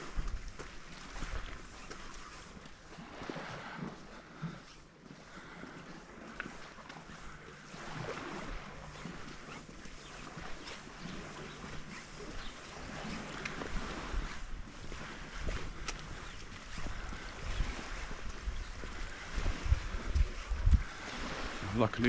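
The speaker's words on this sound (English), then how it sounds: "just nice to hear the rippling of the waves against the rocks here" Water ripples and laps against rocks at Illetas beach, Mallorca, a steady soft wash under light wind noise with no voices.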